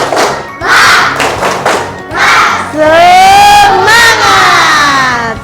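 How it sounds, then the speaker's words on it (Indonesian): Schoolchildren in a classroom chant loudly together in a rhythmic cheer, with thumping claps between bursts and a long sustained shout at the end. "Mari kita tepuk semangat"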